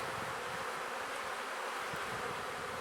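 Honey bees hum inside an opened hive in late March, a dense, even buzzing swarm close at hand that holds unbroken throughout, with no voices.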